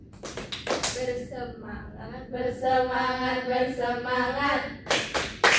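Children perform the tepuk fokus clapping chant in a classroom role-play. A few sharp claps open and close it, with a steady, sing-song group chant in between.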